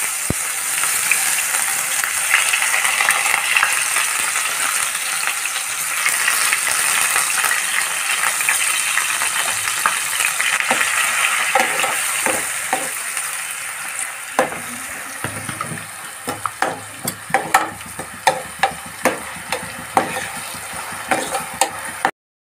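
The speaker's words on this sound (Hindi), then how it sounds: "हमें प्याज को गोल्डन ब्राउन तक फ्राई करना है।" Onions sizzling with cumin seeds in a hot pan, a continuous loud frying hiss that thins out toward the end, when scattered clicks and scrapes of stirring come through.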